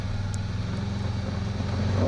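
A Can-Am Maverick side-by-side engine drones steadily at low revs while crawling straight up rocks on a Moab, Utah trail, a moderate rumbling hum with a slight rise at the end.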